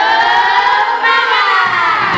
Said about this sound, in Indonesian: Beri tepuk semangat untuk pembelajaran hari ini.